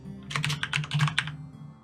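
Rapid clatter of keys on a computer keyboard, about a dozen close, crisp strokes in quick bursts over a low steady hum, then a brief pause.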